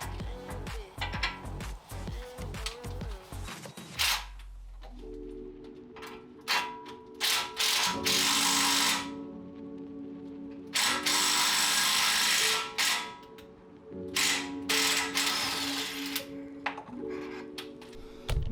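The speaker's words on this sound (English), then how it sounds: "And then you can use a rattle gun. You just want to get the stud lined up" A rattle gun drives extended wheel studs into a car hub in loud repeated hammering bursts, broken by short pauses and clicking mechanical sounds.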